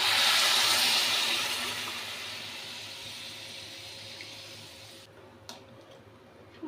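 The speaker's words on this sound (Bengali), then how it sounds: "এবার পরিমাণ মতন উষ্ণ গরম জল দিয়ে দিচ্ছি।" Warm water poured into spiced vegetarian curry in a pan, a loud broad hissing sizzle that gradually fades over several seconds before a couple of faint clicks.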